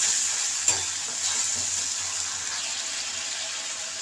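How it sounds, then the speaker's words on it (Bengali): A spice mixture with salt sautés for vegetable dal, a soft continuous sizzle close by with one sharp tap of a utensil against the pan early on. "এবার মশলাটাকে ভালো করে কষিয়ে নেব।"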